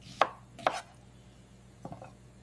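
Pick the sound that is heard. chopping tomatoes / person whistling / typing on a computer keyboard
chopping tomatoes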